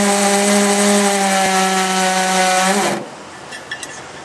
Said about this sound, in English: friend Tim trying to drill a hole for my old school cruiser's fleet.